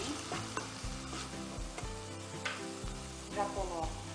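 Bell peppers and a sachet of seasoning sautéing in a pan for Greek-style rice, a steady sizzle broken by repeated scraping stirs of a utensil against the pan, close and continuous with background music underneath.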